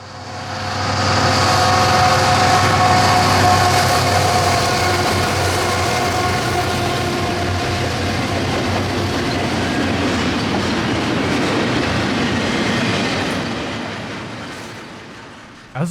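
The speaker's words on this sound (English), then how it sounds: "the brand new Wabtec GE ET44s, those being 7461 and 7457 leading train 100 eastbound" New Wabtec GE ET44 locomotives leading eastbound train 100 roar past, building quickly to a loud, sustained rumble with rail clatter and tonal engine hum, then fading away near the end.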